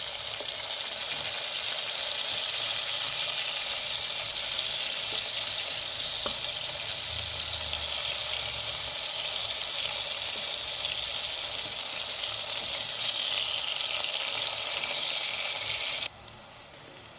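Chicken for a simple kodi fry sizzling in a pan over the flame, a long unbroken hiss of oil, with faint low rumbles as the pieces are turned, ending in a sudden cut near the finish.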